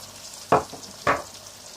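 Chicken cooking in a pan with tomato ketchup gives a soft background sizzle broken by two sharp scraping stirs about half a second apart.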